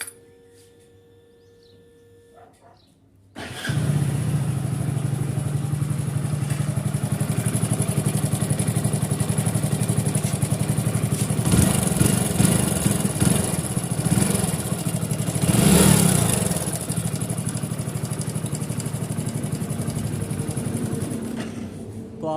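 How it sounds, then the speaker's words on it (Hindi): A Hero HF Deluxe BS6 motorcycle with about 17,700 km and a timing chain fault starts after a few quiet seconds. It then idles steadily and loudly up close, with a persistent mechanical clatter over the engine hum. "मैं आपको इंजन साउंड स्टार्ट करके दिखा देता हूँ"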